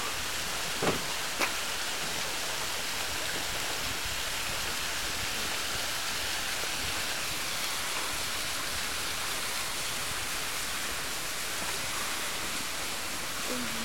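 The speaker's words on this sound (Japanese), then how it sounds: "うわ水しぶきがすごい。" A large wooden water wheel throwing off heavy spray, a constant dense rushing and splashing of water that stays loud and unbroken throughout, with a couple of faint knocks near the start.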